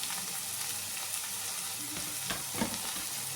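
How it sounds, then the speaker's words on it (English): Chopped ridge gourd sizzles in a pan for a gravy while a spoon stirs it, producing a soft, continuous frying hiss with a few faint scraping knocks. "It has to cook by frying, so we have to mix well"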